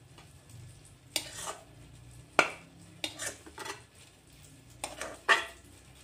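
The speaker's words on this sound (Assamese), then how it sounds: "আৰু গুটিখিনি হালোৱা মই এক প্লেটত উঠাই লৈ আছোঁ।" Carrot halwa is scooped from a pan onto a plate in a home kitchen, with a spoon scraping and clinking against metal in several short, separate strokes, close by and fairly soft.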